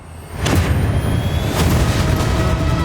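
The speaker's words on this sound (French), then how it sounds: "On a les feux d'artifice, l'explosion, les jeux de lumière." Two deep booming fireworks blasts about a second apart, followed by a rumbling, crackling wash of noise that lingers without any voices.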